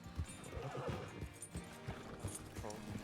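Horses in Red Dead Redemption 2 roleplay: a whinny rises over dull clip-clop hoofbeats and shuffling, several animals bunched close together, moderately loud and without speech.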